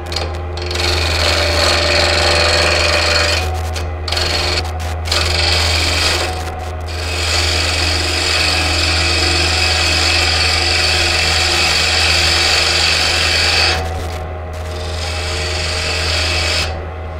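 A lathe spins a block of Sculpey polymer clay mounted on a glue block while a tool cuts it round, with a steady low motor hum under loud, continuous scraping and rasping that briefly drops out a few times.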